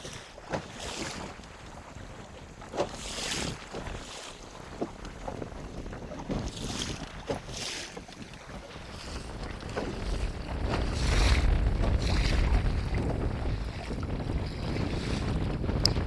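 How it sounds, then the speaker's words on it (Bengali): Strong gusting wind roars over a small wooden rowboat on the choppy Garhal river under cloudy skies. Steady low rumble and buffeting fill the whole stretch, with water slapping nearby and no talking. "প্রচুর হাওয়া দিচ্ছে"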